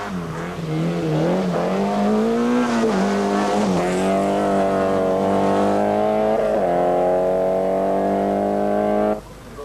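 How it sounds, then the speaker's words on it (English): Henk Vosen's Opel Manta 400 Group B rally car at the 1985 Hellendoorn rally roars loud and close down a long straight, engine pitch climbing through the gears before cutting off sharply near the end. "through comes number 3, Henk Vosen, with his Opel Manta 400, down this long straight into a 90-degree right"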